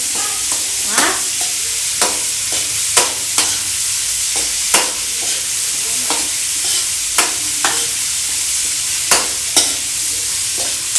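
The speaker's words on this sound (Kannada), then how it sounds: "ಸ್ವಲ್ಪ ಬಾಡಿಸ್ಕೊಳ್ತಾ ಫ್ರೈ ಮಾಡ್ಕೋಬೇಕು." Spicy chicken fry with onions, cooked at home, sizzling steadily in a pan while a utensil scrapes and clacks against it in regular sharp strokes roughly every second, close and fairly loud, with no talking.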